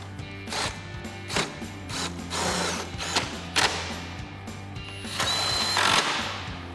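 A 10 mm socket wrench reinstalls the lower headlight mounting screws on a RAM 2500 truck, giving repeated quick ratcheting clicks over a steady low background hum, close by.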